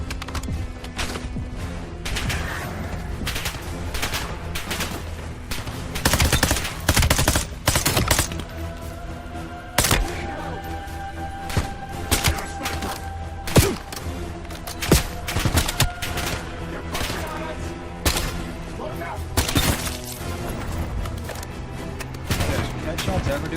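Bursts of rapid gunfire and single shots ring out in a Call of Duty: Black Ops 7 match, loud and irregular, with explosions and game effects layered throughout.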